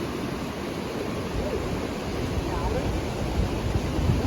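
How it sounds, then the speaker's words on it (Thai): Waterfall at Ta Jang Si near a hill-tribe village, a steady, dense rushing roar that holds at an even loudness for the whole stretch, with no clear voices over it. "นี่คือน้ำตกตาจังสี"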